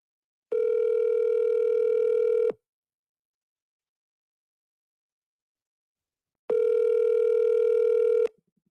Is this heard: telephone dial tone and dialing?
yes